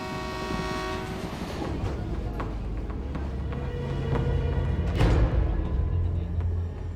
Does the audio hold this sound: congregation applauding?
no